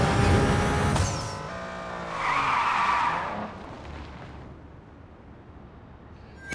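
Car skidding with tire squeal in the racing game Need for Speed No Limits during a live special event, loud at first and then swelling again before fading into a low engine rumble; no one speaks.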